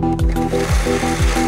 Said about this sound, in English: So we're gonna keep on widening that hole.